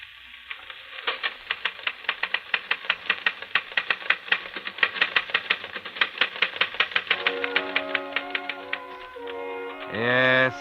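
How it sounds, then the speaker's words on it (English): A typewriter played back from a phonograph record, with rapid, evenly spaced keystrokes clattering steadily for several seconds, then a tonal ringing sound and a louder swell near the end. "Yes, Charles, you're busy typing on a phonograph record."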